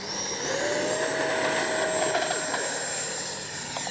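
FMS 64mm Futura RC jet flying overhead with a steady, loud ducted-fan whine and a rising tone that holds across the clip, fairly close.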